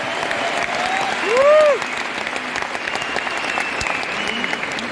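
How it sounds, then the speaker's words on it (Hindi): Loud applause from a large audience at an award function in Tyagraj Stadium fills the whole stretch as dense, steady clapping, with a brief tonal whoop rising over it early on. "उन सब के लिए एक जोरदार ताली होनी चाहिए कि दुनिया भर में उसको सुनाई जाए"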